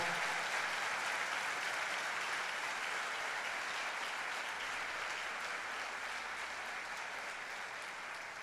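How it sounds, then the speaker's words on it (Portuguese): Loud, dense applause from a church congregation praising God during a service, a continuous wash of many hands clapping together that holds steady for the whole stretch and fades only slightly near the end, with no speech. "Você pode dar uma grande salva de palmas a Ele"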